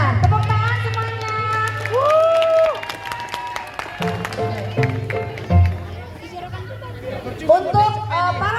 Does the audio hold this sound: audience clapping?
yes